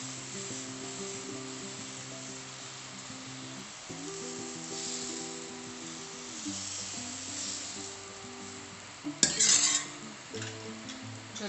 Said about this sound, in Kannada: ಇದು ದೋಸೆ ಪಾಡೊಂದಿಲ್ಲ